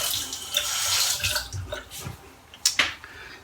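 Water runs from a tap into a sink in short, splashing bursts, close by, with gaps and a few hand splashes as the flow is started and interrupted.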